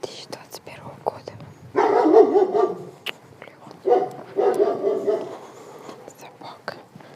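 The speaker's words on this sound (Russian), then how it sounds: "Блин, собака огромная какая-то." A huge dog barks somewhere nearby in two rough bursts of repeated barking, separated by quieter moments with scattered clicks and taps.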